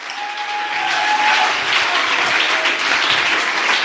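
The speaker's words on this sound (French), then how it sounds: "Acclamez pour le Seigneur." A church congregation applauds and cheers, a dense, loud wash of clapping that holds steady for a few seconds.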